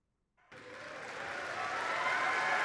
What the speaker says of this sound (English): since it gets a round of applause from the audience